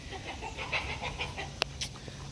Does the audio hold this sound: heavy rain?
no